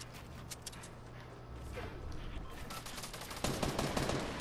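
Rapid gunfire in an online shooter video game, a dense crackle of shots and bursts that grows louder toward the end, with no voices over it.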